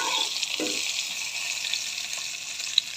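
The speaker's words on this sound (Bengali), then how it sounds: "হালকা করে এখন একটু তেলে ভাজতেছি" Food frying lightly in a little oil in a pan, a soft steady hiss with a couple of faint clinks, close and fairly quiet, with no talk.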